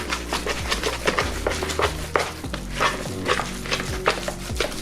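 Seasoned lunch meat paste being mixed by hand in a bowl, giving wet, squelching stirs and slaps in an irregular rhythm, close and moderately loud, with occasional clinks against the dish.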